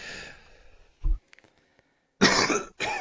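A single close cough is followed by a pause, then a couple of rough, breathy coughing bursts.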